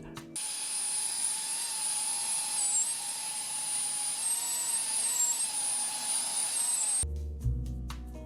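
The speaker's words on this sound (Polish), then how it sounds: "każdy z nich lekko ociera o magnesy, a to generuje nam taki trochę piszczący, metaliczny pogłos" A steady high-pitched metallic whine from the motors of a cinewhoop FPV drone, each motor lightly rubbing its magnets, wavering slightly in pitch, loud and continuous, then cutting off abruptly.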